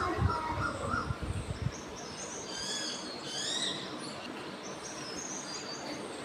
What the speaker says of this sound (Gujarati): ચકલી બોલતી હતી એનો અવાજ.